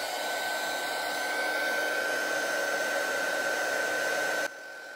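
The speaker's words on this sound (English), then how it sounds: "I'm going to melt the Cosmic Shimmer with my heat gun" A heat gun blows a loud, steady whoosh close by while melting Cosmic Shimmer embossing powder on a stencilled card, then cuts off abruptly near the end.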